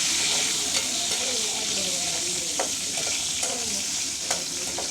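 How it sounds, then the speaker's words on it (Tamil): Washed dried red chillies frying in hot sesame oil, a steady close sizzle with soft crackles and occasional stirring scrapes. "நல்ல எண்ணெய் கொதிக்கிட்டு அதை விட நாங்கள் செத்தல் மிளகாய் கழுவி வச்சுருந்தோம்"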